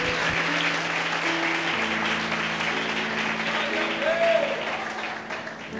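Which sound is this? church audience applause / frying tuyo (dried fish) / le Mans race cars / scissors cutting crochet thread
church audience applause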